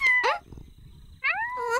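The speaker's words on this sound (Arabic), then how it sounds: "أوه، من أين أتيتما بالهر؟" Cartoon cat meowing in two short bursts, rising and falling, close and fairly loud with a quiet pause between calls; no one speaks during the cries.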